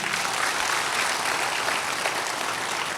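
A packed church congregation claps for Jesus in a dense, continuous burst of applause that fills the room evenly from start to finish.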